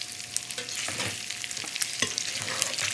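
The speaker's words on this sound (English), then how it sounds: "You're going to stir all that together real nice." Eggs being stirred in a frying pan on a home stove: a continuous near sizzle punctuated by repeated scraping strokes of the utensil, with no talking.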